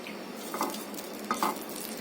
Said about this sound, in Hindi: यहाँ पर दूसरा वाला फ्राई कर लेते हैं